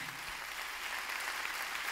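Brief, quiet burst of audience clapping for Fernando Torrado at a candombe tribute to Jorge Goulart, a soft continuous patter with a faint hum beneath.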